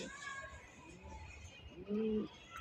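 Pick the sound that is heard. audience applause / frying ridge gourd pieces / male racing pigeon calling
male racing pigeon calling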